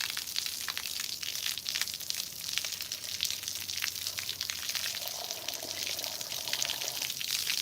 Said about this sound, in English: Get that stuff all sprayed off.